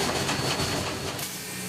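Steam locomotive engine 487, a coal-fired heritage engine, runs with a steady loud hiss and rumble, mechanical clatter pulsing underneath and easing slightly toward the end.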